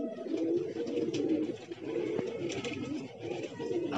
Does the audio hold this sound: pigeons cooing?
yes